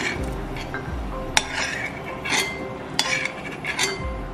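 Roasted cashews scooped from a pan with a ladle in a home kitchen while making an Onam date payasam: close metallic scrapes and clinks, a few sharp taps, no talking.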